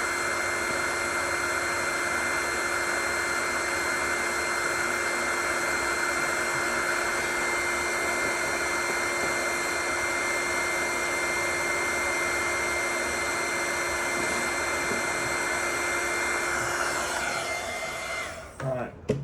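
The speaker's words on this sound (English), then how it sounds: "Really need to get a new heat gun." A heat gun blows hot air in a steady, loud whine and rush that holds unbroken for most of the time, then cuts off with a brief clatter, near the microphone during work on a faulty Xbox One S.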